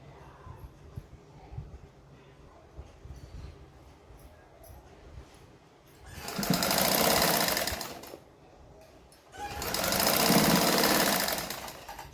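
A sewing machine stitches a katori blouse in two steady runs of about two seconds each, separated by a short pause, over a low background of hum and faint handling noise.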